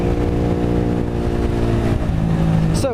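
A Honda CBR 125R motorcycle engine drones steadily while being ridden, a strong buzzing hum that holds its pitch and then climbs sharply as the rider revs up at the end.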